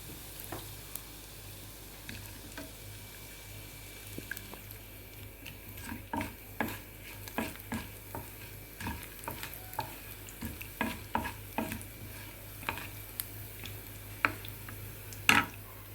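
Cumin, urad dal and chana dal fry quietly in oil, a soft low sizzle punctuated by frequent light clicks and scrapes of stirring in the pan.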